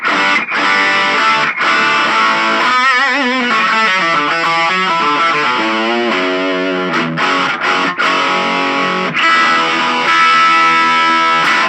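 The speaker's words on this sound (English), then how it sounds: "This is the sound of this little amp with its own speaker," A small practice guitar amp with its own built-in speaker, every setting cranked to 10, pushes out heavily distorted guitar chords and fast runs, loud and steady without pause.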